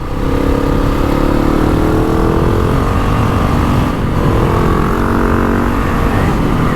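A GasGas ES 700 motorcycle is ridden hard, its engine droning loud and close with a brief dip in revs partway through as a gear is shifted, then pulling steadily again.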